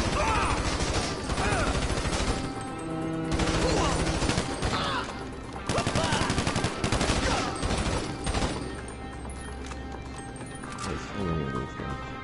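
Gunfire in Grand Theft Auto V: dense, loud bursts of automatic shots and rapid fusillades run throughout a shootout, layered over busy game sound.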